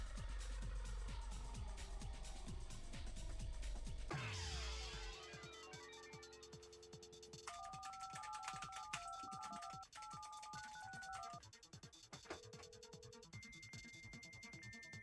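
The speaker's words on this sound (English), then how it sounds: "Why is it making modem noises?" Dial-up modem noises from the San Francisco Rush arcade video game: a dense burst of noise, then warbling handshake tones and shifting beeping pitches, loud and continuous.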